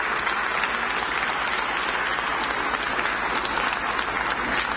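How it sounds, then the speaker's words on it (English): A packed audience gives continuous, even applause for the finalists of a UK esports racing competition, a dense wash of clapping that holds steady at full level from start to finish. "Let's have a round of applause for them as well"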